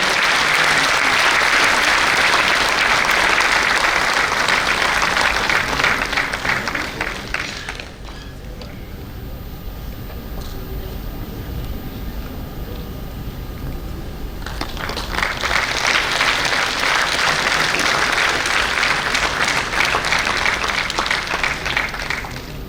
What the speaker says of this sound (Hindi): तालियों का महोत्सव चलते रहना चाहिए।